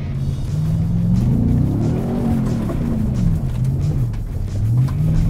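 A Ford Raptor R truck drives sideways through a big mud puddle, its engine a loud, rumbling drone with rising and falling revs under steady road and splash noise, no voices.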